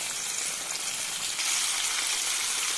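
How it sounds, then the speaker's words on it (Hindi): KFC-style zinger chicken deep-frying in oil at 170 degrees gives a loud, dense, steady sizzle with a constant crackling hiss, close up and without talk. "फ्राई होते हुए 6 मिनट हो चुके हैं"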